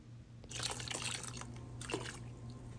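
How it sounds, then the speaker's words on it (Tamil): Water poured into ground rice and coconut batter for neer dosa, a faint splashing trickle that starts abruptly and runs in uneven gurgling bursts close by, with no voices. "இப்போ இதில் நம்ம தண்ணி விட்டுக்கலாம்"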